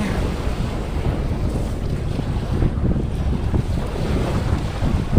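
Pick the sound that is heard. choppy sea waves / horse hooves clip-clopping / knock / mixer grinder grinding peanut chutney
choppy sea waves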